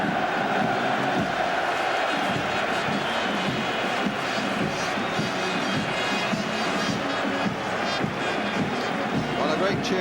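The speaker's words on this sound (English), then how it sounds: "a great cheer from the West Ham fans behind that tunnel as their team come out" West Ham supporters at Wembley during the 1980 FA Cup final against Arsenal, a dense, roaring stadium crowd cheering as the team comes out, with a commentator's voice running over the sustained noise.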